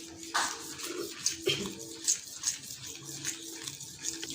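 Water is added little by little to tahini with garlic and stirred in one direction, producing quiet, close, rhythmic wet scraping and light splashing in repeated soft pulses.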